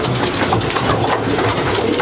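Racing pigeon cock birds in a Belgian loft give soft, overlapping cooing against a steady background rumble, with low murmuring coos repeating throughout.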